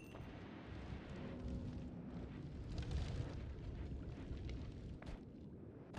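Enemies blowing up in the video game Noita, a dense, continuous rumble of overlapping booms and bursts, quiet overall with a few sharper pops near the end and no talk.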